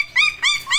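Belgian puppies about four weeks old whimper and yip in three rising, high-pitched cries, close and loud with short gaps, no talking.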